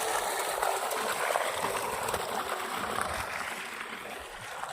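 Steady rushing water flows continuously along a channel through farm fields at an even, moderate level, with a soft trickling hiss and no voices.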